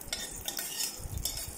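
Raisins frying in oil inside a pressure cooker, a soft sizzle with light scraping and stirring clicks, quiet and close.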